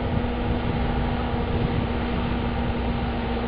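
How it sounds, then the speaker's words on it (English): A tractor churning muddy slurry in a wet field gives a steady, continuous engine rumble with a fixed low hum running through it, close and unbroken, with no voices. "Now get ready for another pass from the tractor."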